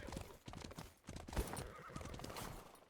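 Lancelot's horse in the SMITE video game whinnies loudly and trots with crisp hoof clip-clops, rhythmic hits close up around a short sharp neigh.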